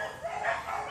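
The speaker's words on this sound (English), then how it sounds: "the neighbor's dogs are howling at us" Neighboring dogs howl and yip outdoors in a continuous, wavering chorus that stays moderately distant and steady, with no talking over it.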